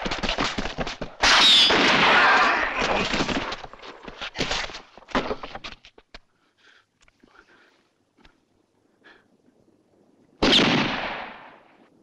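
Gunfire in a western shootout, with several loud, close bursts of rapid shots and scattered single cracks, then a lull with faint distant pops before another heavy volley.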